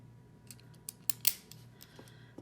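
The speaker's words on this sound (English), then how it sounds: "this one is the ballpoint clicker. So it just has a little click." Frixion ballpoint clicker pen being clicked, several sharp little plastic clicks scattered over a couple of seconds, close and fairly quiet against a faint background hum.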